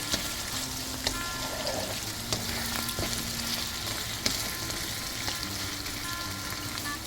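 Eggs and ingredients for Cajun Asian fried rice sizzle steadily in a hot pan, a dense continuous frying hiss with occasional light scrapes and clicks of stirring, close up and with no talk.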